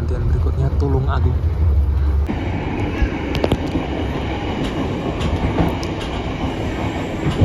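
Indonesian passenger commuter train runs on rails between Kediri and Tulung Agung, a steady rumbling roll with rhythmic clacks heard from inside the carriage while a voice talks over it.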